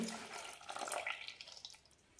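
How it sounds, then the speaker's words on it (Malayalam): A little water runs into idli batter for Goan sannas, a soft, close pour that swells briefly and then fades, with no talking. "ഇതിലേക്ക് ഒരു ടേബിൾ സ്പൂൺ കൂടി വെള്ളം ഒഴിക്കാം"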